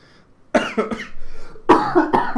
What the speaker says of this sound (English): my cough is still slightly there